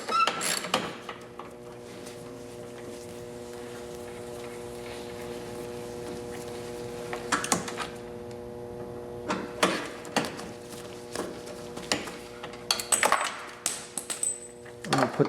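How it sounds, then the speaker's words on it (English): Bolts being removed from the bumper of an Audi A4 B6 1.8T: scattered metallic clicks and ratchet-like rattles between quieter stretches of low workshop hum, close and fairly soft. "I'll take this top bolt out first."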